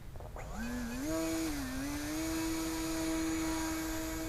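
Radiolink D460 Turbot sub-250g RC plane's brushless motor spinning up at about 60% throttle for a hand launch, a steady rising whine that holds loud and close for several seconds.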